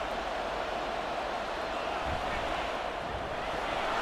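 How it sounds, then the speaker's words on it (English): Steady, dense stadium crowd roar from a simulated NFL game in Madden 24, Buccaneers at Vikings, a continuous loud wash of cheering with no clear breaks throughout. "Here comes a big one as this crowd gets up making some noise."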